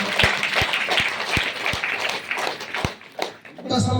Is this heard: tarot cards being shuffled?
no